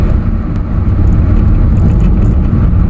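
Alfa Romeo 4C sports car with a loud engine, a steady deep rumbling drone that stays strong and close throughout, with no talking over it.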